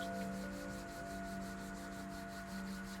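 Two hands rub together in a continuous soft swishing of palm against palm, faint and close, with a gentle steady back-and-forth rhythm over a low background hum and no talking.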